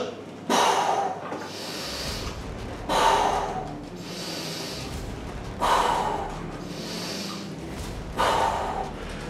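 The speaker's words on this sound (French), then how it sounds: "J'inspire blocage." Four deep, forceful breaths taken at regular intervals during a weighted leg workout, each a sharp inhale or snort held and released, close and loud against a quiet gym background.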